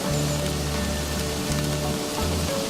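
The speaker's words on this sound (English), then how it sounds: "this hailstorm blows up from nowhere" Hail from a sudden storm drums on a car roof, heard from inside, a dense steady patter of hard impacts throughout, with a low engine-like hum beneath.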